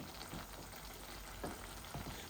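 Dried fish (shutki) fries in a nonstick pot, giving a faint, steady sizzle with soft bursts of stirring scrapes at intervals and no talking.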